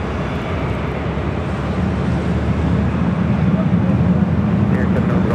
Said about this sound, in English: got another heavy coming our way here to the north side. Iberia, flight 6171, A350-900,